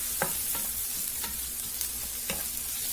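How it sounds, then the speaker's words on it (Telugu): Green chillies fry in a pan of hot oil for Gobi Manchurian, giving a steady, close sizzle. A spoon stirs now and then with soft scraping strokes. "కొద్దిగా ఫ్రై చేసుకున్నాము."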